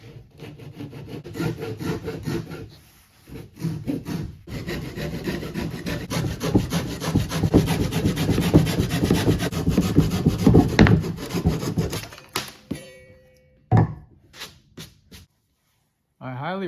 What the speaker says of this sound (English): I highly recommend this brand of Japanese Ryobi pull saws.